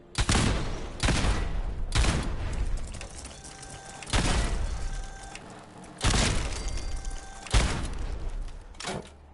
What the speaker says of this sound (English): did not mean to shoot that extra shot